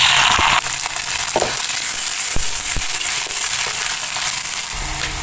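Loud, continuous sizzling and crackling of shallots frying in hot oil after mustard seeds have popped, close up, with a sharper burst of spitting at the start.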